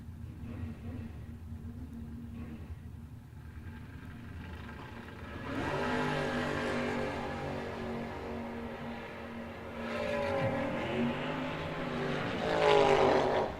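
Old-time drag race cars, including a little pickup truck, at Kil-Kare, engines idling low and then revving hard in rising, roaring bursts, moderately distant, building louder toward the end.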